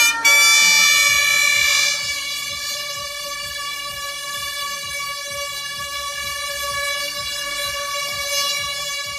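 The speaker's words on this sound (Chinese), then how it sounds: "在港务公司董事长李贤义还有贵宾们的鸣笛之下正式开跑。" An air horn blares to start a road race around Liyu Lake in Hualien, Taiwan, with nearly 1,500 runners gathered. It is a loud, steady, sustained blast lasting the whole stretch, strongest at the start and holding on without a break.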